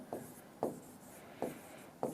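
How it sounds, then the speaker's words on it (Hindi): Marker or chalk strokes on a board during a lesson, four short scratchy writing sounds spaced irregularly apart, close and clear against a quiet room. "मैं लिखता हूं इंग्लिश"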